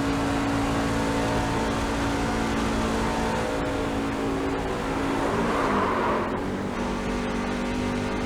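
Onboard roar of a racing truck at Daytona International Speedway during a race save: a steady, loud, dense engine drone held throughout, pitch wavering slightly as it shifts load, with no voices.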